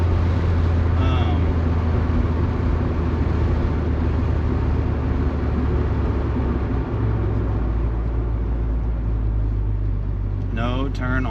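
Steady low engine drone from a 1997 Mazda Miata running at partial throttle in fourth gear around town, a constant broadband cabin rumble throughout, with a brief voice near the end.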